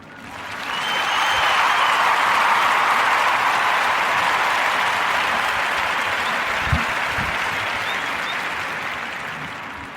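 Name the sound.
audience applause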